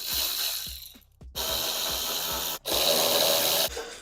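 Ratchet working the strut nuts on a BMW E9x suspension during a Bilstein B4 shock refresh, a steady rapid clicking whir heard close up, broken by two short pauses.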